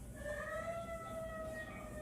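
A steady wailing emergency evacuation siren in Cedar Key holds throughout, sustained and fairly distant over a low rumbling background.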